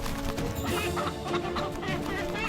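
An Aseel fighting rooster of the Feezan breed clucks and stirs amid a noisy, dense scene, with scattered sharp bursts over a steady busy background.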